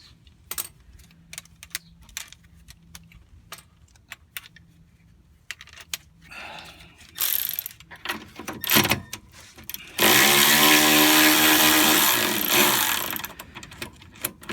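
Sharp metallic clicks of a ratchet with a 13 mm deep socket loosening sway bar mount bolts on a 2008 BMW 535i, scattered close-up ticks followed by a louder burst of tool and parts noise.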